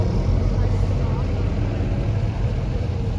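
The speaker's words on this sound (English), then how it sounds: "have the lovely sound of Gardner engines" A vintage bus with a Gardner diesel engine running at a vintage and country show in South Cerney, Gloucestershire: a loud, steady low rumble that carries on throughout, with voices in the background.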